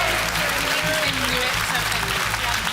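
Studio audience applause at a BBC TV quiz show in Liverpool, a steady wash of clapping with a voice talking over it throughout.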